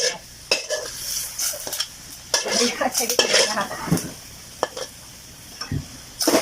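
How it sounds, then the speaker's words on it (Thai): A utensil stirs pickled mustard greens in a pot of water on the stove for a braised pork belly dish, giving intermittent close scrapes and sharp metallic clinks against the pot, with someone speaking briefly. "แล้วก็คนๆนะคะ เดี๋ยวรอให้เดือดค่ะ"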